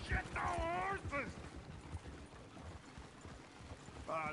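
Horses in the Red Dead Redemption video game clatter with hoofbeats, set against game ambience, while a character voice speaks loudly at the start.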